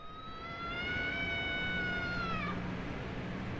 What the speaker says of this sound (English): That was definitely my cat, I just heard